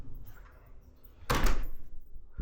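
A front door closes with one solid thump partway through, against a faint room hum, with no voices over it.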